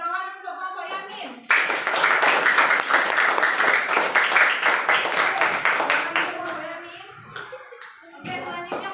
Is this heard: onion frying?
no